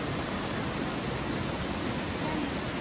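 Water falling at Choie Waterfall in the Tirthan Valley of Himachal Pradesh makes a steady, dense broadband rush that holds level and unbroken throughout, with no voices.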